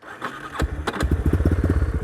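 Yamaha Raptor 350 quad with an FMF exhaust cranking briefly, then catching and settling into a quick, rhythmic single-cylinder idle, close and loud with no talk over it.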